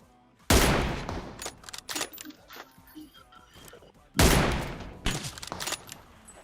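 Two loud, sharp M24 sniper rifle shots ring out several seconds apart in the PUBG Mobile video game. Each crack is followed by a decaying echo, with fainter clicks and handling sounds in between.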